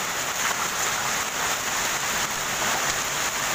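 Dry hail pelting down across a park in Delhi, an unbroken hissing clatter of many small hailstones on the ground and surfaces, even and sustained from start to finish.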